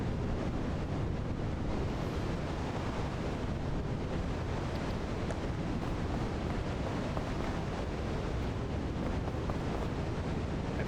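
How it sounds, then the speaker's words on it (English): A winter storm in a video game gives a steady, loud roar of gusting wind that blankets everything without letup, with no voices. "if I pause while there's a winter storm that it's just going to keep playing this windy sound"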